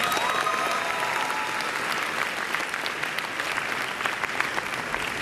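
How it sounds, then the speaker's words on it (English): Audience applause at a Canadian West Coast Swing dance competition fills the hall as a dense, steady clapping from a sizable crowd that holds for the full stretch. "Good round of applause for them,"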